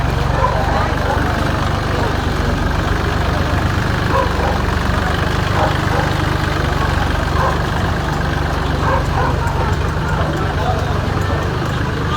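Tractor engine idling in a steady, loud low-pitched throb that runs throughout, with voices talking over it in a flooded rural area.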